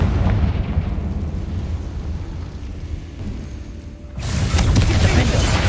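A Confringo fire spell blast in Hogwarts Legacy, a rumbling low burst that fades and then gives way to a sudden loud crackling eruption near the end.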